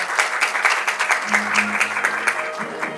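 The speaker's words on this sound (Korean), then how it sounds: "박수로 맞이해 주십시오" An audience at a panel session claps steadily for about three seconds, a dense wash of hand claps that stops abruptly at the end.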